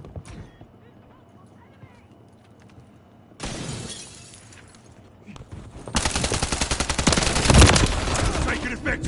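Gunfire in the Call of Duty Modern Warfare 3 beta: a quiet stretch with game voices, then a sharp burst of shots and rapid automatic fire growing louder and denser toward the end.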